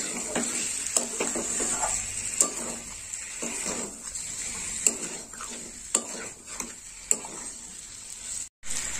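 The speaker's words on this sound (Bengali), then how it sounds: "এই মশলাটা শোল মাছের সঙ্গে কষতে হবে।" Snakehead fish frying with spices in a pan, with a steady close sizzle under repeated clinks and scrapes of a utensil stirring against the pan.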